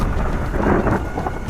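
A thunderstorm sound effect for an animated horror story, with a loud, continuous rumble of thunder mixed with heavy rain and wind, no voices.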